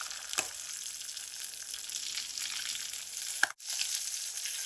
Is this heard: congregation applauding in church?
no